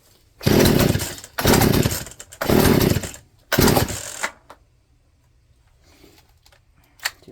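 Poulan chainsaw with a newly fitted Hipa replacement carburetor starting in four loud revving bursts, each about a second long, that sputter and die out, followed by near silence with faint handling noises.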